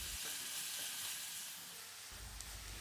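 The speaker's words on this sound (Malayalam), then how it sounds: "അപ്പം ചട്ടി വെച്ചിട്ട് ഞാൻ അതിലേക്ക് വെളിച്ചെണ്ണ ഒഴിച്ച് അതിന് ശേഷം സവാള നേരിയതായിട്ട് അരിഞ്ഞിട്ട് അത് നന്നായിട്ടൊന്ന് വഴറ്റി കൊടുത്ത്" Sliced onions and green chillies sizzle in coconut oil in an appam pan, a soft, steady frying hiss with faint stirring, close and alone.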